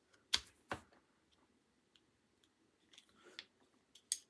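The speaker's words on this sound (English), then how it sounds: "A clicking noise is heard." Two sharp clicks close together, then a pause, followed by a few softer ticks and one final crisp click.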